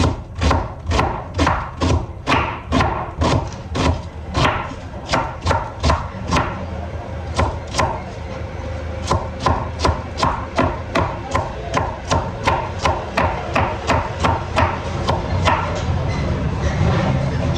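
Onions being chopped on a board for a sarma filling, a steady run of sharp knife thumps in quick rhythm, close and loud, with no talking.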